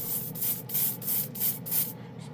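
An airbrush sprays chrome paint in steady hissing bursts, five or six close pulses in a row before it stops, with no talking.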